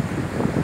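Sea waves and wind at Kalpeni beach in Lakshadweep make a steady, close rush of surf under gusty wind noise, continuous and fairly loud across the short moment with no voices.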